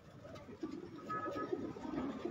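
Faint, low cooing from a champion fancier's pigeons rolls on for a couple of seconds, a quiet, soft murmur with no talk over it.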